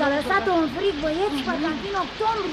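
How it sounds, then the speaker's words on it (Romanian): Heavy rain as a sound effect in a Romanian radio play, a steady, dense hiss of downpour running under someone talking throughout. "Plouă cu găleata."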